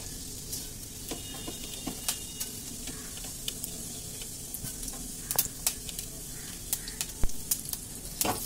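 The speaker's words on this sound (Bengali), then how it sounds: "এবার তেলের ওপর আমি গোটা জিরে দিয়ে দেবো।" Whole cumin seeds sizzle in hot oil, a soft steady frying hiss scattered with sharp crackles and pops that grow more frequent toward the end, with no one speaking.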